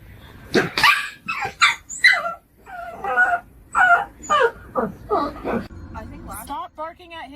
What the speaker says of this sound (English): Stop barking at him.